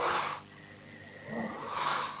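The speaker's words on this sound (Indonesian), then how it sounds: "Ngorok, udah ngorok." Snoring from a man lying on an IV drip, heard over a live call: a rough, loud snorting breath, a quieter wheezy stretch, then another heavy breath, with no one talking.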